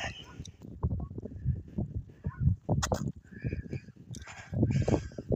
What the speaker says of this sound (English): So it seems there's one lone survivor goose here.